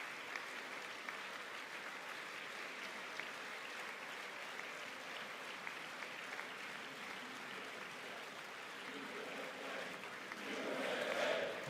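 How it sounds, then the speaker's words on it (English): A crowd at the 2020 State of the Union applauds and cheers, a broad steady wash of clapping at moderate distance that swells louder in the final second. "people are cheering USA, USA, USA."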